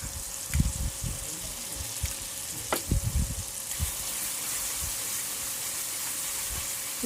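Mustard paste hits hot oil in a pan for a hilsa fish curry and sizzles steadily, with sharp spattering pops and a few scraping stirs early on before settling into an even frying hiss.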